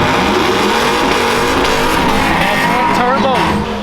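A loud, close-up twin-turbo boosted truck engine roars steadily, its pitch wavering and rising near the end.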